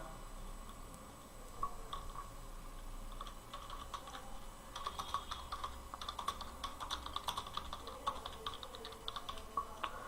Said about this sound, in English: I'm typing over here